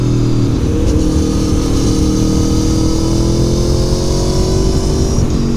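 A 2023 Aprilia Tuono 660 Factory motorcycle engine under way, a loud steady mid-pitched drone holding nearly constant with a slight rise in pitch, no talk over it.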